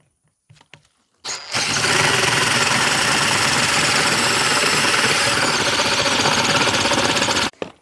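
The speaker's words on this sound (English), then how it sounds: "Flip the wood and finish boring it out from this side." A power drill bores through a wooden post, finishing the hole from the second side, running loud and steady for about six seconds after a brief start, then cutting off abruptly.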